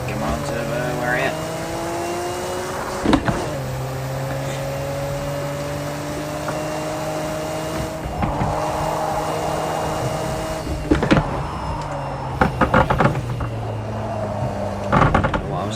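A Nissan Skyline GT-R R34 SMS-R races around Donington Park GP in Project Cars 2, its engine holding a loud, steady tone that drops and climbs through gear changes, with a few sharp clunks and a faint tire squeal.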